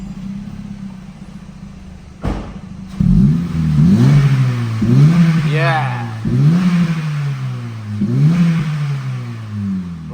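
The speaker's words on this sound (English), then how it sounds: "that sounds amazing, especially in comparison to the old 1-inch exhaust system. Very deep and very burbly." Honda Civic 1.8 FN engine fitted with a modified 70mm Tegiwa exhaust, blipped five times in a row. Each rev rises sharply and falls back into a deep, burbling idle. Close and loud, with a brief spoken word between revs.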